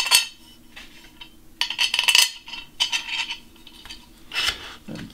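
Small 5mm metal bolts dropped into Workbee Z1 parts make sharp, bright metallic clinks and rattles in a few irregular bursts, close by, with quieter handling sounds between and no talking.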